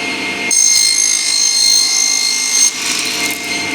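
Table saw crosscutting a wooden workpiece on a small crosscut sled, a loud steady high-pitched whine with the pitch shifting as the blade bites, close and continuous without speech.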